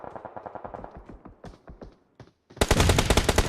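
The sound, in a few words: gunfire in PUBG Mobile video game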